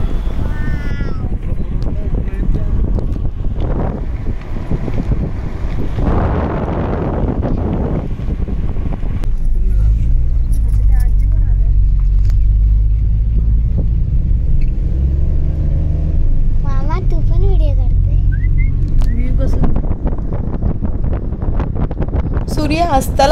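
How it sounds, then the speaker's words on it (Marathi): A car creeps slowly up a narrow, risky single-lane hill road toward Wadagaon, its engine a steady rumble mixed with wind buffeting, growing to a deep, heavy drone in the second half. "गाडी अगदी सावकाशपणे घ्यावी लागते"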